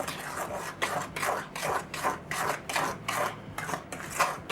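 Gluten-free snickerdoodle dough with shortening being mixed by hand in a bowl, a steady series of rhythmic scraping, rasping strokes, about two per second, close and fairly loud with no talking.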